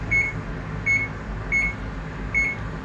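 An oven beeps four times in an even rhythm while being set for baked mac and cheese, each short tone clear and close over a low background hum.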